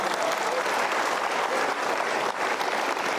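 A studio audience at a motivational talk show bursts into loud, continuous applause, a dense wash of clapping that stays strong and even for about three seconds.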